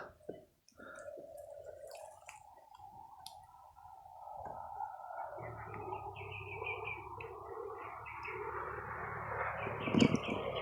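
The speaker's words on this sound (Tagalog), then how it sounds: "Ibon lang pala." Birdsong chirps and trills in an outdoor setting, with scattered clicks and a steady background wash that grows busier partway through.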